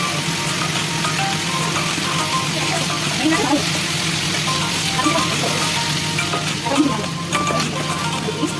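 Boneless chicken pieces frying in a pan for chilli lime teriyaki chicken, giving a loud, dense, continuous sizzle with occasional scraping stirs, close by and steady throughout.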